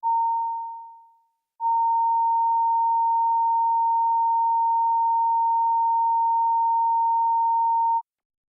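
Pure sine calibration tone for a Committee Room 29 sound check, heard in isolation as a brief tone that dies away, a short silence, then a sustained even loud tone running around six seconds and ending abruptly.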